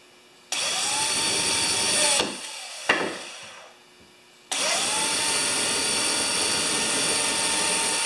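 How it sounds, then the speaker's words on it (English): A power drill cuts countersink holes in wood for carpenter's vise screws, two loud, steady whirring bursts separated by a short pause and a few clunks, close up with no talking. "So do the countersink from this side."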